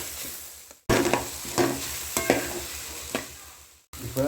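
Mushroom kothu parotta being stirred in a hot pan with pepper, cumin and fennel powder, repeated scraping strokes over a continuous sizzle, with two short pauses in the stirring.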